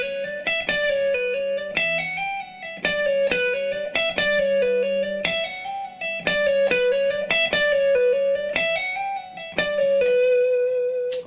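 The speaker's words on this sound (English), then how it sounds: "the articulation is going to sound like this." Distorted electric guitar plays a fast blues lick through an effects unit, bright picked notes in a steady repeating phrase with bends and string attacks, loud and close with no voices.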